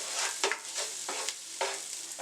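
Fresh thyme goes into a pan with celery and other vegetables for superfood rice, sizzling steadily up close while a spoon scrapes and stirs in repeated rhythmic strokes.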